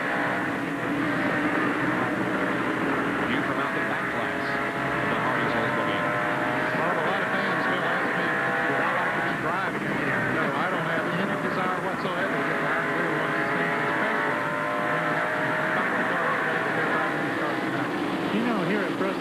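Stock cars at the 1988 Busch 500 drone past in a sustained, loud pack roar with engine pitch gently rising and falling, while a commentator talks over the racing.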